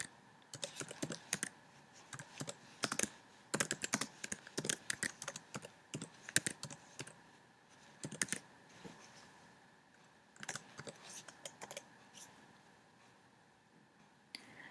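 Quick bursts of typing on a computer keyboard while entering an equation in a quiz editor, faint clustered key clicks in irregular runs with short pauses, no talking.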